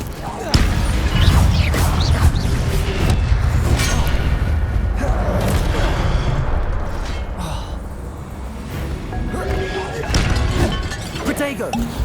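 Hogwarts Legacy gameplay with the Incendio fire spell cast repeatedly, a steady loud roar of bursting flames and crackling impacts filling the whole stretch, with a voice shouting over it.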